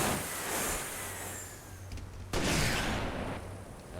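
Gunfire aimed at a player in Halo Reach, a burst of shots and a sharp crack partway through over a rumbling game background, moderately loud.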